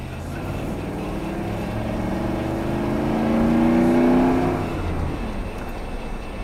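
A Ford F-150 truck engine, still cold, revs and pulls in first gear without shifting all the way, a steady loud drone rising in pitch and swelling toward the middle before easing off.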